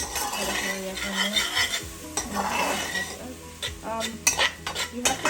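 Fried rice is stirred fast in a hot pan, with a spatula scraping and clanking against the metal over a constant sizzle, the scrapes coming in quick irregular bursts close by.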